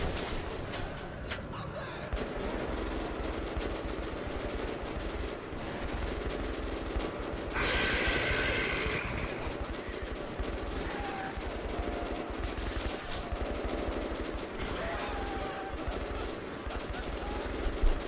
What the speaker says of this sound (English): Those gunshot noises in the background are so Eurojank. The same sound over and over.